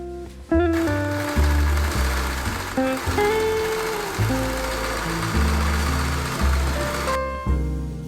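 A sewing machine stitches the shoulder and side seams of a fall jacket, its motor running in loud close bursts with brief pauses and a rising whir, and no talking.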